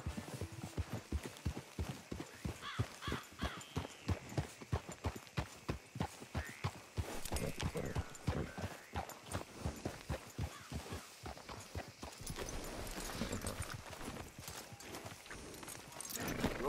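Hooves of a ridden horse in Red Dead Redemption 2 beat out a brisk, steady clip-clop, close and continuous, with a brief change in the stride's rhythm toward the end.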